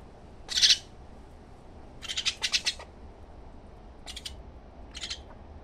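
A hungry common myna close by gives several harsh, squawking calls in separate bursts, one sharp call first and then a rapid chattering cluster, followed by two shorter cries over quiet background.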